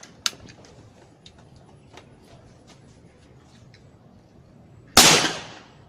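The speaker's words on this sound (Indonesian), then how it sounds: "Tiga kali tembakan." A modified air rifle fires three shots: a sharp crack, then a much fainter one, and finally a loud, close blast with a short trailing hiss, spaced over several quiet seconds.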